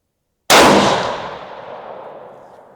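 A single loud rifle shot from a Ruger Gen 2 chambered in 7PRC, sharp sudden blast after silence, followed by a long rolling echo that fades over about two seconds.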